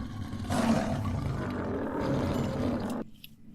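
A lion in a modded Minecraft game lets out one loud, close roar that holds for about two and a half seconds and then cuts off abruptly into near silence.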